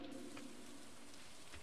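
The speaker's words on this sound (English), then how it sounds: "It's raining?" Rain falling in the farming game Stardew Valley during summer, a soft, even patter of rainfall heard at low volume with a faint tonal hum underneath, no talking.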